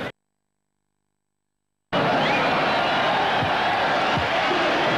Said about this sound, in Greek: Ο κόσμος φωνάζει, τα παιδιά κυρίως φωνάζουν από τον γορίλα που κάνει βόλτες στην εξέδρα